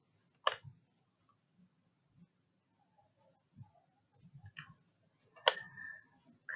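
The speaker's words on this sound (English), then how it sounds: "So you're just going to click on this link here." A computer mouse clicks a few times, sharp isolated clicks spaced seconds apart with quiet low handling noise in between.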